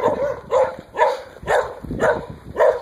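Several dogs bark in a steady, repeated rhythm of about six loud barks roughly half a second apart, close by, with yips and whimpers mixed in and no talking.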